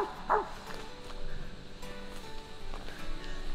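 A Mountain Cur hunting dog outdoors near a creek bank gives a short, sharp bark near the start, followed by fainter yips against steady background noise.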